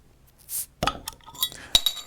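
A bottle of home-brewed Irish stout is opened with a bottle opener. There is a short hiss, a sharp metallic pop of the cap, then glass clinks and small clatters close by.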